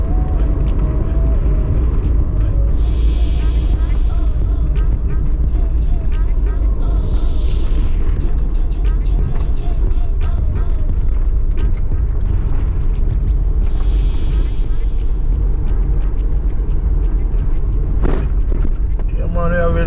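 A car travels a rough, potholed road in Westmoreland, Jamaica, with a loud steady engine and road rumble, interior rattles and bumps, and a voice talking over the drive.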